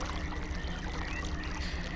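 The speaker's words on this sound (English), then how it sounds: "A windmill pumping water." A windmill pumping water in the video game realMyst, heard as a continuous watery pouring and churning with a steady low rhythmic thump underneath, moderately loud and alone.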